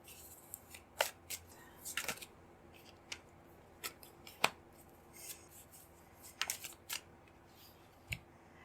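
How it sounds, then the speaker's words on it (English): Tarot cards drawn and shuffled by hand during a reading, producing a few sharp, quiet snaps and flicks scattered irregularly across a faint, otherwise still room. "Let's pull some more cards and read it together."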